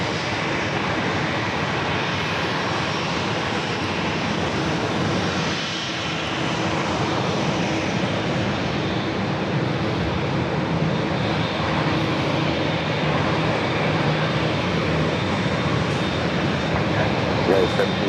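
An airliner takes off from runway 27 at San Diego airport, its engines a steady, loud broadband roar that holds throughout with no break, while a voice talks and radio chatter plays over it.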